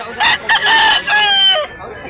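A rooster at a poultry sale in Mantalungon, Cebu crows loudly and close, a single ringing cock-a-doodle-doo broken into a few quick bursts before a long drawn-out final note.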